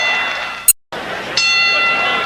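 A boxing ring bell rings briefly to open the 10th round of the Larry Holmes vs Ken Norton heavyweight bout. A short sharp ding is followed by a brief dropout, then steady arena crowd noise with a commentator talking.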